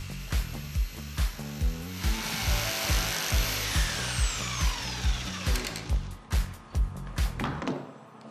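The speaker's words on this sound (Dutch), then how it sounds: "Daarna kan je met een decoupeerzaag een uitsparing maken." A jigsaw cuts a recess into an acoustic wall panel made of wooden slats, buzzing steadily up close, with rhythmic rattling knocks as the blade chops through.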